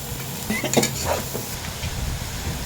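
Sponge gourd and rohu fish curry is stirred and fried in a pan with spices, giving a steady close sizzle broken by scraping spoon strokes, with no one talking.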